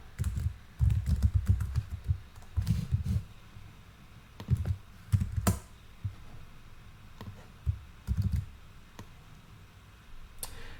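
Code is typed on a computer keyboard in irregular bursts of close, crisp key clicks with dull thumps of heavier keystrokes, pausing between words, with no talk.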